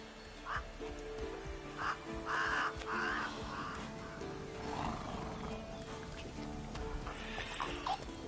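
Roach, the horse in the Witcher 3: Wild Hunt video game, gives several short neighs and snorts at Kaer Morhen, with clip-clop hooves and crowing birds mixed into a busy game soundscape.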